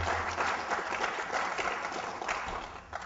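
A conference audience gives a short round of applause, moderately loud, uneven clapping that thins slightly toward the end.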